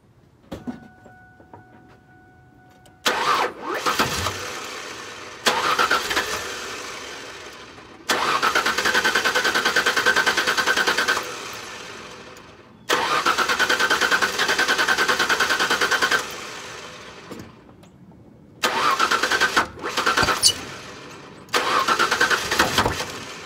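A B3000 pickup truck engine cranks and catches several times, each start followed by a rough, steady idle that cuts off before the next attempt.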